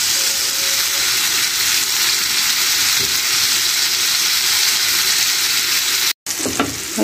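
Sausage sizzles steadily in a frying pan as the first step of a hearty fried egg dish, a loud continuous crackle with a brief dropout near the end followed by a few clinks.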